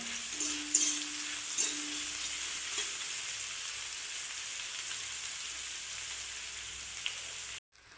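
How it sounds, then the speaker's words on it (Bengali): Onions frying in a pan over a gas flame while cooking masoor dal with pumpkin stalks, a steady broad sizzle with a few faint clinks, close and continuous until it cuts out near the end. "রাখা পেঁয়াজগুলো দিয়ে দিলাম, দিয়ে ওটাকে ভাজতে হবে। এবার গ্যাসটাকে বাড়িয়ে দিলাম।"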